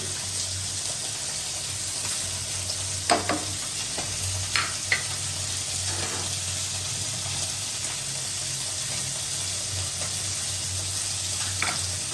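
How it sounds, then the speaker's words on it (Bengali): Ginger and garlic sizzle steadily in hot oil in a pan, with a few scraping stirs and light knocks partway through as dry spices go in. "আদা রসুনটা কষানো হয়ে গেছে, এখানে শুকনো মশলাটা দিব।"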